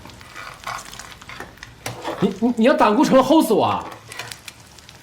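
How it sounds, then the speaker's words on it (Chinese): Eggs fry in a pan with a soft, continuous sizzle and some stirring, largely masked by someone speaking loudly and emphatically over it. "那你还是煎鸡蛋吧"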